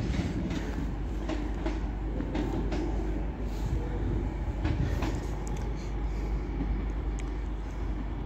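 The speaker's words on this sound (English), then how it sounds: "coming in is a 390 for Avanti West Coast off to London Euston" An Avanti West Coast Class 390 electric train pulls into Stockport station with a loud, steady rumble and rhythmic clickety-clack of wheels over rail joints, heard close up with no one speaking.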